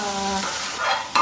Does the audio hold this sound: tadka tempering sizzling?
yes